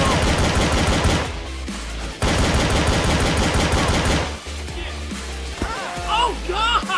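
Rapid automatic gunfire in Garry's Mod Prop Hunt, loud sustained bursts broken by a short pause, then fading into quieter scattered sounds.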